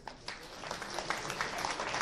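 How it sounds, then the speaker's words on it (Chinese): Applause from students in a physics lecture hall starts with scattered claps and builds into soft, steady clapping at a distance. "我们给点掌声。"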